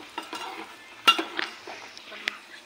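Dry fruits frying in ghee in a pan, a light sizzle under scattered stirring scrapes and a couple of sharp metallic clinks of a spoon against the vessel, nearby and fairly quiet.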